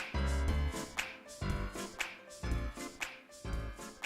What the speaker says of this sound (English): There's just piano and claps at the end